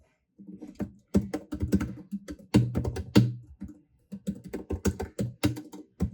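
Rapid bursts of keystrokes on a computer keyboard while typing JavaScript code, close and clear, with short pauses between clusters of clicks and no talking.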